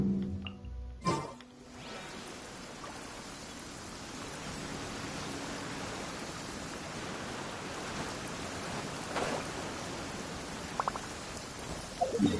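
Steady, soft rain falls in a video game, a constant hiss running throughout after a brief sound at the start, with no talking.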